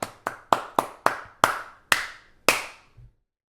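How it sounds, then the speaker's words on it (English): Round of applause from a small group, eight distinct claps that spread out and slow toward the end, close and crisp, ending with a soft thump and then silence. "Round of applause, everyone."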